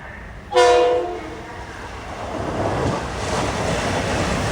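A Metro-North commuter train from New Haven to Grand Central crosses a bridge, opening with a loud, sharp horn blast, then a steady rumbling roar of rolling railcars that holds on without any talking.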